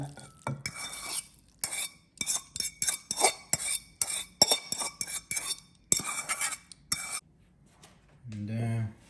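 Noodles for a creamy spicy ramen go into a bowl amid a close, irregular run of sharp clinks, taps and scrapes of utensils against the dish, ending with a short low rustle.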